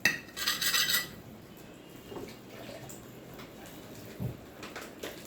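Cutlery clatters against a plate while bread fried with egg is cut up, a cluster of bright clinks at the start followed by quieter scraping and occasional small knocks.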